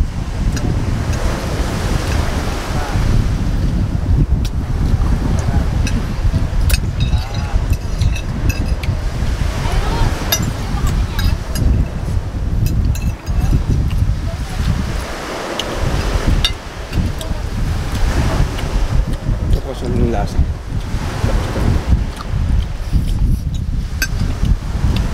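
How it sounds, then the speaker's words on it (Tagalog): Ocean waves wash and crash onto the shore in a continuous roar, with wind gusting across the microphone. "narinig nyo yung paghampas ng alon?"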